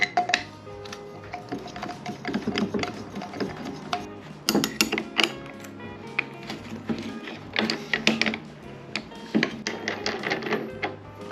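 A handle is fitted onto a new cordless Black & Decker angle grinder, with close, busy clicking, ratcheting and rattling of plastic and metal parts throughout and no talking.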